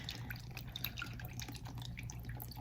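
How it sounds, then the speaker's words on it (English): Gluten-free soy sauce marinade being poured over tofu cakes gives faint, close trickling and small irregular drips over a low steady hum, with no talk. "And I just pour a nice amount just to get the tofu cakes in there."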